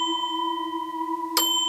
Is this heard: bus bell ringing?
yes